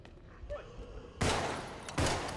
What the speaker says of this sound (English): I heard a gunshot in the distance.